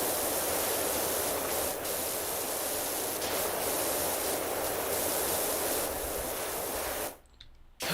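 A pressure washer in PowerWash Simulator sprays a garden gnome, giving a steady, loud hiss of water that runs for several seconds before cutting out abruptly near the end.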